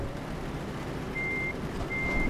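Truck in Euro Truck Simulator 2 reversing while parking a long trailer, a steady engine rumble with two short runs of a thin, evenly pulsing reversing beeper, and no speech.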